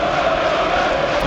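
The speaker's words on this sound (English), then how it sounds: "applauding and chanting" Away Newcastle United supporters at Arsenal applaud and chant from the stands, a steady far-off crowd roar with a tonal chant line running through it, heard briefly and continuously.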